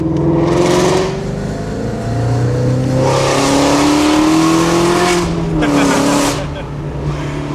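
A Shelby GT350's engine drones steadily and loudly with rising and falling exhaust tone, exhaust valves closed, fairly muted and throaty rather than sharp, with a voice heard beneath it.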